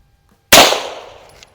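A single loud, close Beretta M9-A1 9mm pistol shot cracks out after silence, its sharp report trailing off into a short decaying echo at an outdoor range.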